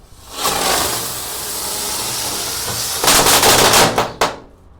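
Firecracker lit indoors inside a house: loud hissing, crackling burn that sputters steadily for a few seconds, then intensifies with sharp pops and bursts before abruptly dying out.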